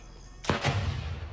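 A grenade goes off in the Gray Zone Warfare shooter, one sudden loud burst followed by a rumbling, debris-filled tail that fades over about a second.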